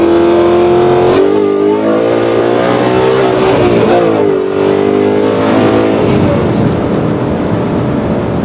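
A 2024 Ford Mustang GT Nite Pony, built to about 800 horsepower, accelerates hard on a damp road, its engine roaring up through the revs with a gear change near the middle, loud and close with no talk.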